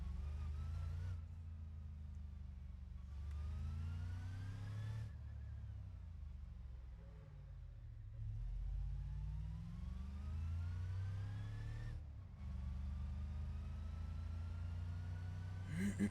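A long-wheelbase truck in a video game drives steadily, its engine droning low and level, rising and falling with shifts and revs, with a couple of abrupt cuts and no voices over it.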